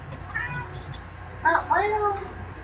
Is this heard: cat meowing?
yes